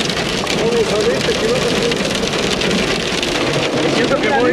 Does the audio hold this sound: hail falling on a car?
yes